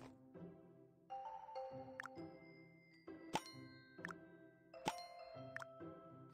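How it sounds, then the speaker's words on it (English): Broken gear wheels dropped into a rubbish bin in a cartoon panda care game: bright synthetic dings and plopping clunks land one after another over a soft melodic game tune, clean and close. "Dump the broken gear wheels into the rubbish bin."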